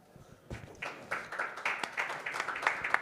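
Audience at a football transfers panel breaks into applause, starting sparse and quickly building into steady, moderately loud clapping from many hands in a hall.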